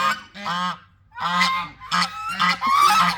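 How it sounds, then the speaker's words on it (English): Several geese honk loudly and close by in a series of harsh, nasal calls with brief pauses between them. "if the geese would be quiet, that would be more pleasant"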